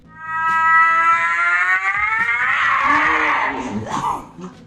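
A cat gives a long, loud, drawn-out meow that rises and bends in pitch, close up, followed by a shorter wavering yowl, with no talk over it.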